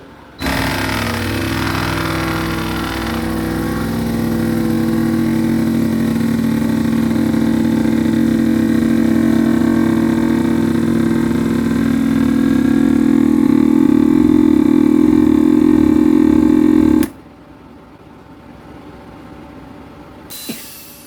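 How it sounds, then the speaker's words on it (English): Auto vacuum-and-seal cycle on a countertop vacuum sealer drawing air from a food bag for home-made emergency rations: a steady loud motor hum for about sixteen seconds, rising slightly, then stopping abruptly, followed by a faint click. "Start auto vac and seal."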